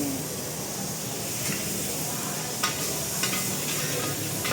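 Chili and garlic hit a hot pan at a night market food stall, a steady loud sizzle and hiss with a few sharp scrapes of a spatula stirring through.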